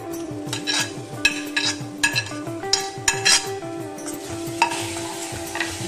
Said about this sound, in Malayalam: എല്ലാം കൂടെ നല്ല രീതിയിലൊന്ന് മിക്സ് ചെയ്യാം